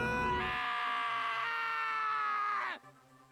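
A sustained, high-pitched scream from the murder-mystery video game Danganronpa: Trigger Happy Havoc rings out clearly and alone for about two seconds, holding steady before cutting off abruptly.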